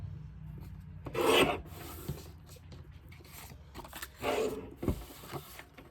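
A paper trimmer slices paper pieces for a notebook cover in a few short, close rasping strokes separated by quiet handling sounds.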